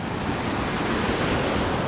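Storm surf on a Crimean beach near Ordzhonikidze, with waves crashing in a steady, loud roar and wind buffeting the microphone throughout, with no voices.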